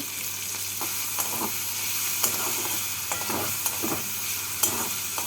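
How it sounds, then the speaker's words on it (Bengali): Chopped onions with curry leaves frying in hot oil in a pan, a continuous close sizzle broken by regular stirring scrapes and clicks, with no talking. "একটা বড় সাইজের কিমা করে কুচনো পেঁয়াজ পেঁয়াজটাকে লাল করে ভেজে নেব"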